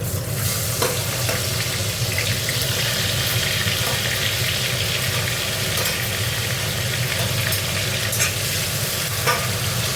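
Chopped onion sizzles and fries in a pan while being stirred, a loud continuous crackling hiss with occasional scraping from the stirring, close by and without talk.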